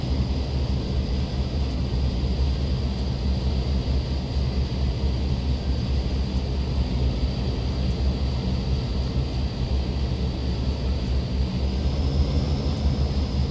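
Steady, loud engine drone of a Dash8-Q400 turboprop in the Prepar3D flight simulator on takeoff, a continuous even roar with a faint high whine holding throughout.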